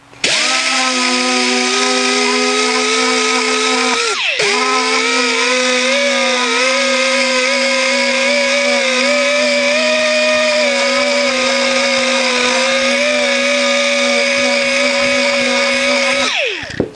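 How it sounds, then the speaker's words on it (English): A Harbor Freight 2-inch orbital sander whines steadily and loudly while stripping white powder coating from 18 gauge steel, with one brief dip in speed partway through and no talking. "Now what I'm going to do is sand off some powder coating."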